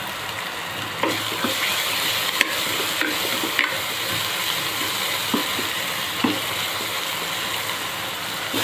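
Hot oil tempering (phodni) for an eggplant and dal curry sizzles steadily and close up, with occasional sharp crackles and pops from the pan and a stirring scrape now and then.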